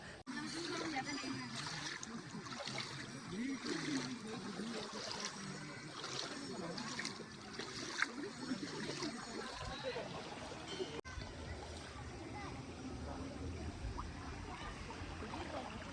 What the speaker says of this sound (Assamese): সৰু এটা নদী এইটো এটা আৰু পানী বৈ আছে